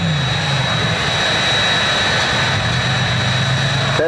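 A jet dragster engine warming up roars continuously at high power, loud and close, with a steady high-pitched whine over the rumble, at Orange County International Raceway in 1981.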